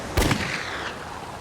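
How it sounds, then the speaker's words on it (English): A single pistol shot cracks out sharply, with a quick echo that trails off across open wilderness and no voices. "I heard a gunshot"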